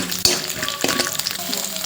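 Onions sizzle and crackle steadily in hot oil for a gram-flour Bombay chutney, with a couple of clanks from a stirring spoon, close and fairly loud, no talking.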